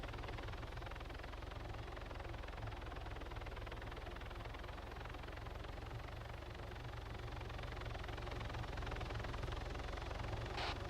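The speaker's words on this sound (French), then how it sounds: "C'est qui cet hélicoptère?" A steady, distant helicopter drone with a low rhythmic rotor thump persists throughout, fairly faint and unbroken, with no voices.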